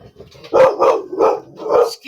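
A dog in a room barks four times in a quick, loud, close series, evenly spaced with short pauses between barks.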